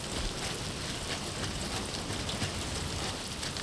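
Continuous rainfall in the Death Stranding 2 video game, a broad unbroken wash of drops hissing evenly, with no voices heard.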